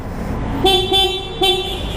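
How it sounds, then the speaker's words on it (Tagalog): Three short honks from a Yamaha Sniper 155 motorcycle horn, close and loud, the first and last slightly longer, over a low engine idle. "Tapos dito naman busina. Ganito yung busina niya."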